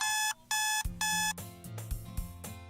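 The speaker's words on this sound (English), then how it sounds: "that alarm clock is fucking loud" A loud alarm clock in a DDLC mod visual novel rings in sharp repeated electronic bursts, then shifts into a rapid jangling, bell-like run of tones, all close and with no talking.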